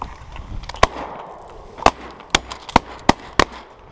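Shotguns fire at ducks during a hunt: about six sharp, punchy bangs spaced irregularly across a few seconds, heard from a moderate distance over outdoor background noise.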